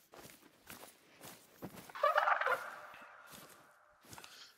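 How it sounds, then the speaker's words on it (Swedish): Turkeys gobble and cackle in a quick burst in the video game theHunter: Call of the Wild, with soft footstep-like thumps around it, fairly quiet and fading after a few seconds. "Det är ett jäkla kacklande här framme."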